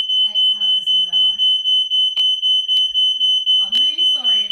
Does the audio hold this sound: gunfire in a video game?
no